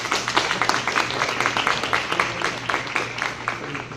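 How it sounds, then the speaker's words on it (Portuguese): An audience at a lawyers' credential ceremony applauds for the graduates' families, a steady patter of many hands clapping together at a moderate, fairly close level with no talk over it. "E agora eu quero que vocês batam palmas para eles."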